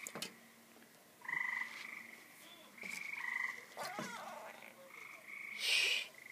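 A frog croaks in short, cat-like calls, faint and close, in several separate bursts over a quiet outdoor background.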